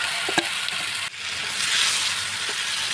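Onions frying in a pan while salt is sprinkled over them, as chicken is prepared. A steady close hiss of sizzling is heard, with a couple of small clicks near the start.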